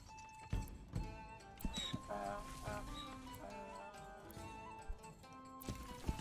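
Horses in the medieval city-building game Manor Lords clop and whinny in soft bursts of hooves and brief neighs over a layered game soundtrack, all fairly quiet.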